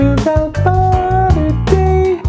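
An alto saxophone plays a slow lick over a funky backing groove with bass and drums, with short punchy phrases separated by small gaps. No talking.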